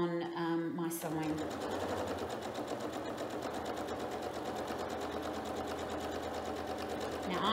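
A sewing machine quilting a beginner's quilt project runs in one steady, continuous whir after a brief start at about one second, holding a constant motor hum throughout with no talk over it.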